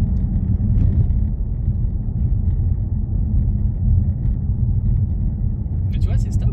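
Low, steady rumble of a V8 5.0 engine inside a car while driving, a constant deep drone with road noise, with occupants talking over it throughout.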